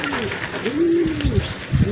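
Racing pigeons coo after flying home from a training toss near Tuguegarao City. A few soft, rising and falling coos come from close by, with rustling and faint low bumps toward the end.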